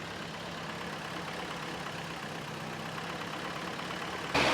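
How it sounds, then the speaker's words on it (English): A cheap Toyota truck engine runs steadily after cam work, giving an even, unbroken mechanical drone throughout with a slight rise in loudness near the end. "We want to vary the RPM of the engine a little bit."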